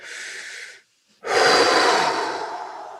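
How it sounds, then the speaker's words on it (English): A person takes a deep breath, with a broad breathy exhale, a short pause, then a longer, louder inhale or exhale close to the microphone, no talking. "So first, just take a breath"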